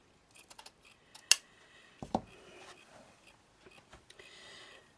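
A strip of material is cut to length, about three inches, producing a few faint, sharp snips and clicks at irregular intervals against a quiet background.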